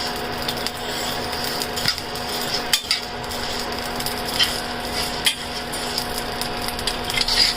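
Rice and chanachur being slowly stirred in a pan over low heat, soft scraping and light clinks of a spoon against the pan repeating in an uneven rhythm beneath a faint hiss, no voices.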